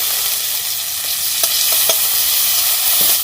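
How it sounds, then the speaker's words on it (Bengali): Garlic and ginger paste frying in hot oil for mochar chop, a steady close bright sizzle with a few soft stirring scrapes, no voices. "তেল দিয়ে দিচ্ছি, একটু রসুনগুলো দিয়ে দিচ্ছি, আদাটাও দিয়ে দিলাম, আদা বাটাটা"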